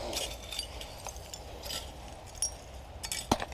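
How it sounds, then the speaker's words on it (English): Shards of broken glass clinking against a metal tool while digging in topsoil for old bottles outdoors. Faint scattered chinks rise over a low background, with one sharper clink near the end. "Yeah, I'm getting a lot of broken glass."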